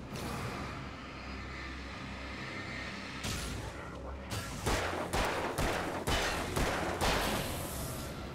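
Gunfire rings out in the Alan Wake video game: a run of sharp, loud shots in the second half, each cracking and decaying over a rumbling background, with a few seconds of low ambience before.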